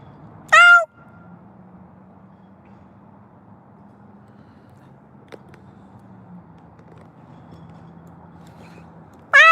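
Two loud cat meows, one at the start and another at the end, separated by a long stretch of quiet low background hum.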